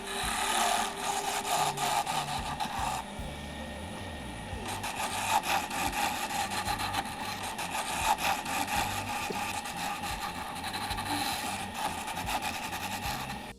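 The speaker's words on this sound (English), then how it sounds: "I'm going to switch over to a different carbide tool. It's negative rake still, but it's a little square, so I can smooth this out." A wooden pen blank spins on a lathe while a square negative-rake carbide tool smooths it, giving a continuous, close scraping hiss with a steady motor hum beneath.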